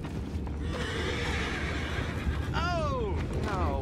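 Horses in the Red Dead Redemption 2 video game give a loud whinny with clear falling harmonics near the end, over steady clip-clop of hooves and ambient game noise throughout.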